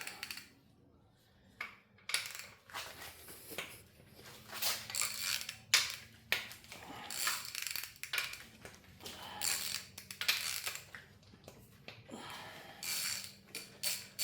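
Ratchet wrench cracking loose the bottom end bolts on an LS LY5 engine, with bursts of fast clicking and metallic clanks of tools in a quiet garage, no speech.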